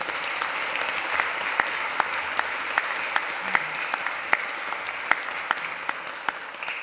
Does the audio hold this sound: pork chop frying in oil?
no